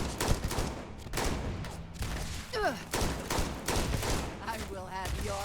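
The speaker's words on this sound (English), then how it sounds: "We are taking an unreasonable amount of fire from somebody" Enemy gunfire in Starfield crackles in dense, overlapping bursts of rapid shots, loud and close, with thuds and brief electronic tones mixed in.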